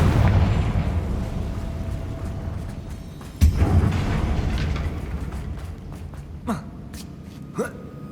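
A Confringo blast in Hogwarts Legacy: a low rumbling roar that fades, broken by one sharp explosive crack midway and two smaller pops afterward, all fairly loud with no talk.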